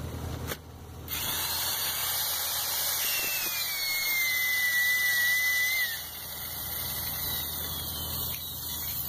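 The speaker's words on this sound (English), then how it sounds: "we shave the ends of each pipe" A pipe facing tool shaves the ends of plastic pipe during trenchless pipe repair, giving a steady whining, grinding tone that holds for several seconds over a low machine hum, then eases off.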